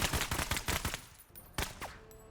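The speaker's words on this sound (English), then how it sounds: "We are under heavy fire." Heavy gunfire in the video game MENACE, a rapid run of loud close shots followed by a pause, then a few more scattered bursts.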